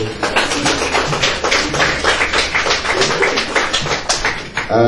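An audience at a public address applauds, with loud, dense, rapid claps pattering continuously at a steady level close by, and a voice briefly audible beneath them.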